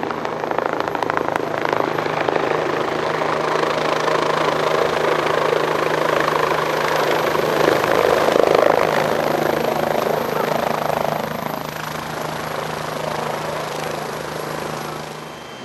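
A Mercy Flight medical helicopter arriving at a staged drunk-driving crash scene, its rotor and turbine drone loud and continuous overhead, then easing slightly as it settles, with crowd murmur beneath.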